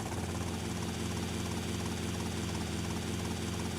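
Helicopter flying low in Grand Theft Auto: Vice City, a steady rotor thump and engine drone held at an even level throughout, with no voices.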